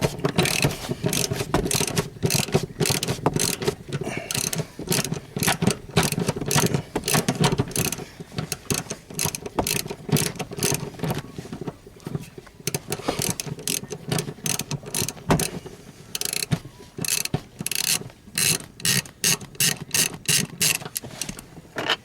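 A ratchet wrench loosening the seat bolts on a GM/Chevy seat, rapid repeated clicking in bursts with short pauses between strokes, close and loud throughout.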